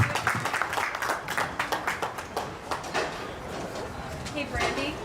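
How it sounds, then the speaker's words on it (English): Audience at a 4-H and FFA hog show giving a round of applause in a show ring, a scattered burst of clapping of moderate loudness that fades after a few seconds, with voices talking faintly underneath. "Let's give him a round of applause."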